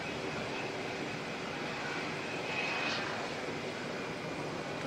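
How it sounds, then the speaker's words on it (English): A Beechcraft King Air turboprop heads out of Auckland Airport toward Christchurch, its steady engine drone sounding fairly distant and even in level, with a faint rise near the middle and no voices. "one of the little Beach King Airs"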